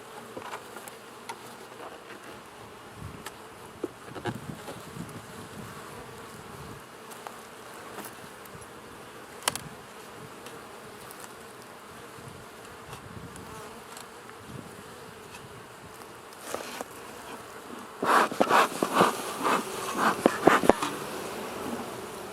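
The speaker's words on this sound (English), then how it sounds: "I see bees coming and going from it" Honeybees fly around a hive entrance with a constant buzzing drone and occasional individual bees passing close, growing louder and busier toward the end, with no voices.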